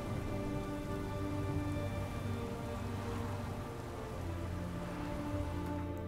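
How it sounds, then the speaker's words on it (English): Steady, dense rain pours down during a storm in the video game The Witcher 3, a continuous close hiss of drops on surfaces with a faint low rumble beneath, and no voices. "A storm, damn it."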